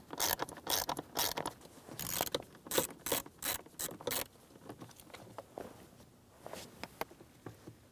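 A mounting screw backed out of a blower motor resistor on a 2007-2014 GMC Sierra 2500 HD with a ratchet, a fast run of loud clicking strokes that slows into quieter, scattered clicks and handling noise.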